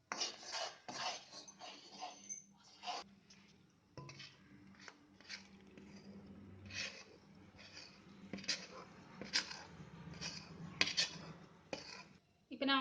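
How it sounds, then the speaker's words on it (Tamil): Mysore Pak mixture is moved from a pan into a tray, with scattered close clinks, scrapes and knocks of utensils against metal, irregular and fairly quiet, with faint murmurs in the background. "இதுக்கு ட்ரான்ஸ்ஃபர் பண்ணுற ட்ரேக்கு."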